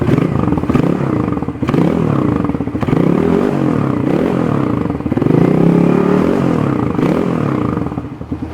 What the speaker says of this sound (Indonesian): Padahal ini suara silencer bawaannya gitu.